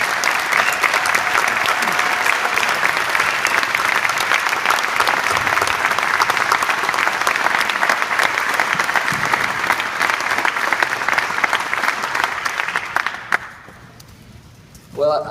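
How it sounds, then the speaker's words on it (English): Sustained loud applause at a coach's introductory press conference, dense even clapping from the gathered room for about thirteen seconds before it drops off abruptly and a voice begins. "they certainly deserve a round of applause for all they accomplished"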